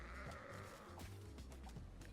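In a video game, a goat bleats repeatedly among the sounds of a fight, with clattering effects layered over it. The sound is fairly quiet and there is no talk.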